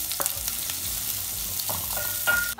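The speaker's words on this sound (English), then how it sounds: "I've just let my onions cook until they've begun to brown, and I've added my ginger and garlic." Browned onions with ginger and garlic sizzle steadily in a pot for a Kenyan githeri recipe, a close crackling fry with a few stirring scrapes and no talking.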